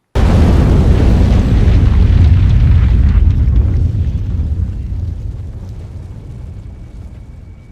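A loud, deep animated explosion roars at once, then rumbles and slowly fades away over several seconds.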